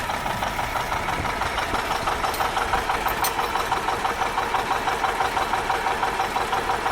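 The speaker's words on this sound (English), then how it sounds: "We're seeing if the engine will turn. See if it'll even turn over." A John Deere 630 tractor engine is pulled by another vehicle to turn it over, giving a steady, rhythmic knocking rumble that continues evenly without pause.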